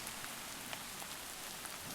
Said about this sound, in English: And I'm sorry about the rain.